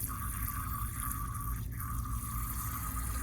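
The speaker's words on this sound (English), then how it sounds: "So I'm gonna pour my mixture into my beaker, and to that, I'm gonna add a decent amount of water." Water pours steadily into a lab beaker holding a mixture, a continuous close splashing and gurgling stream with a brief shift midway, heard alone without talk.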